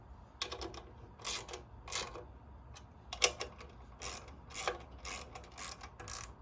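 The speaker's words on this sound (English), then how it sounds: "attach the 8M8 hex head bolts." A ratchet tightens M8 hex head bolts on a Glambot Event Pro 2 camera rig, giving repeated rapid clicking bursts in an irregular rhythm, close and fairly quiet with no talk.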